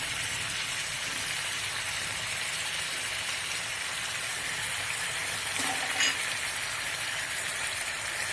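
Ginger garlic paste fries in hot oil in a pan for a spicy Peshwari chicken, a dense, continuous close sizzle with a brief stirring scrape, with no voices.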